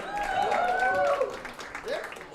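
Crowd at a live bluegrass and country show at The Station Inn in Nashville applauding and cheering, a dense wash of clapping with whoops and voices rising over it, then thinning out near the end.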